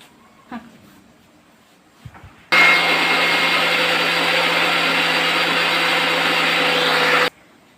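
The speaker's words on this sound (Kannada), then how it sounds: "ಮಿಕ್ಸಿ ಹಾಕೊಂಡ್ಬಿಡೋದು" A kitchen mixer grinder grinds broken pieces of roti into powder, starting abruptly with a loud, steady whirring roar that holds for about five seconds and then cuts off, after a few small clicks of handling.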